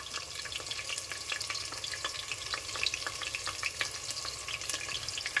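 Onions frying in oil with a bay leaf for pulao crackle and pop in a continuous, moderately quiet sizzle, with scattered sharp spits throughout and no talking.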